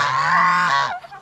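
Domestic geese give one loud, close honk that holds steady and then drops away, with nothing else heard.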